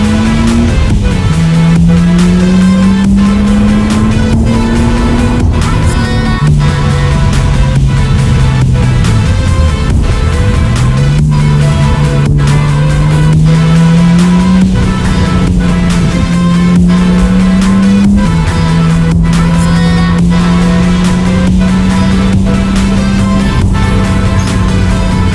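A car cruising on the motorway gives a steady, loud engine and road drone inside the cabin, its pitch slowly rising and dipping, with faint regular ticks running underneath.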